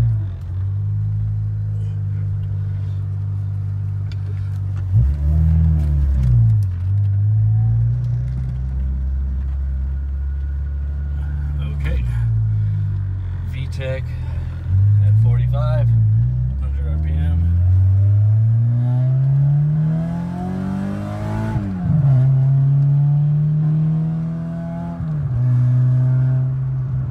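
A Honda engine with VTEC added to its ECU revs repeatedly, its exhaust and intake rumble rising and falling in pitch several times, moderately loud and close.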